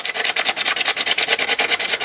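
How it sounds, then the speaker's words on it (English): An 80 grit sanding pad rubs quickly back and forth on surfboard foam around a ding, close, loud and rhythmic with rapid even strokes and no talking. "Inside the kit comes a sanding pad that is roughly 80 grit on one side and 240 grit on the other."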